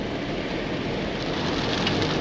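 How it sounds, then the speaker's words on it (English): Steady rain falls outdoors in a dense, even hiss that fills the whole stretch with no gaps, close and fairly loud, with no voices over it. "it's raining."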